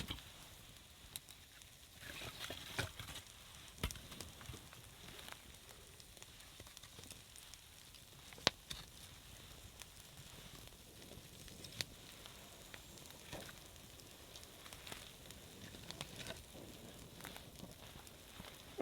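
Hardwood campfire burning in heavy snow beside a tent, giving a faint, quiet sizzle and crackle with occasional sharp pops over a soft background.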